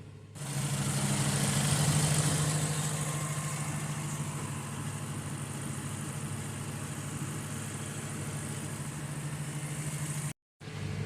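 A 2017 Infiniti Q60 engine idles steadily with a continuous low hum and faint vibration, recorded close, without a break until a momentary dropout near the end.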